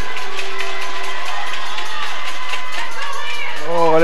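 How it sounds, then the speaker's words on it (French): A crowd cheers and shouts loudly and continuously at a youth speed skating race in an indoor rink, with children's voices in the roar and a commentator talking over it. "Vous entendez déjà la foule qui se met de la partie."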